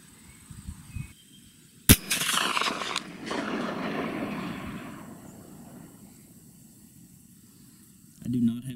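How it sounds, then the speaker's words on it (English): A single sharp report from a CVA Accura V2 muzzleloader rifle fired on a 200-yard field range, a loud crack followed by a rolling outdoor echo that trails off over several seconds, with a voice starting near the end. "Jared took his first shot"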